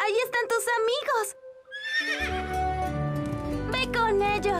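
Cartoon horses give loud, whinnying neighs, one after another, with clip-clopping hooves in a children's animated show, voices chattering alongside.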